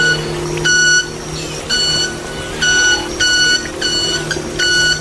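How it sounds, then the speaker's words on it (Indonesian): A male club-winged manakin rubs its wings together, making a series of about six short, bright, ringing buzzes, each like an electronic beep, repeated at an uneven rhythm over a quiet background hum. "Burung jantan ini menghasilkan suara dengan menggesekkan sayapnya,"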